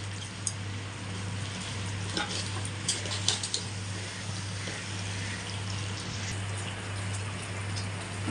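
Chicken biryani mixture cooks in a pot with a steady low simmering bubble and faint sporadic ticks and pops, alongside a constant low hum throughout.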